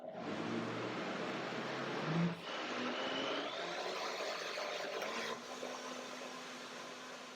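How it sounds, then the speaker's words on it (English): A steady mechanical whir of a blender mixing avocado cashew mayonnaise runs continuously at close range, with a brief dip partway through before it carries on. "One more blender dance."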